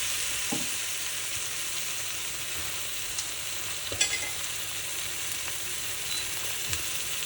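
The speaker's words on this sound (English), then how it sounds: "make sure that the masalas have been sauteed properly and they are mixed with the gravy" Masala and gravy for Punjabi-style paneer bhurji sautéing in a pan, with a soft, continuous sizzle and a few light stirring scrapes, the most distinct one midway, close but fairly quiet, no voices.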